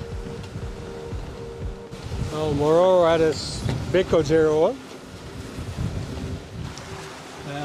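Wind gusts buffet the microphone in a continuous roar aboard a Lagoon sailing catamaran at sea while someone speaks over it.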